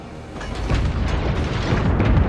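Naval gunfire from warships in World of Warships, including a North Carolina battleship and the Atlanta cruiser, heard as a dense, continuous rumble of deep booms and blasts rolling together with no clear gaps.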